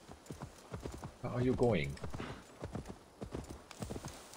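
Horse hooves clip-clop in Assassin's Creed Valhalla, steady and close, running under someone talking.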